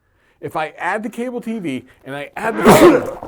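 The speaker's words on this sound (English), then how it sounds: "I sneezed." A single sharp sneeze from a podcast host bursts out loudly right after a stretch of his own talking, close to the microphone.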